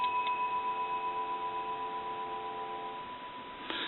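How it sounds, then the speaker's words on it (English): A steady, continuous dial tone from a restored Monarch wooden wall telephone hums evenly, a flat sustained buzz that cuts off near the end with a small click. "We'll give you some dial tone."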